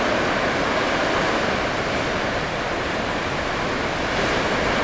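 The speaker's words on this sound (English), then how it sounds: "Yeah, it's like it has to be the perfect wave." Ocean surf surging into Thor's Well on the rocky coast at Yachats, Oregon, a steady, loud broadband wash of churning water and spray with wind, continuous for the whole stretch with no voices.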